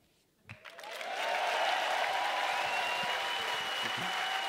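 A studio audience at a folk music show breaks into warm applause for a returning guest, starting from quiet with a few claps and swelling within a second into steady, full clapping that continues throughout.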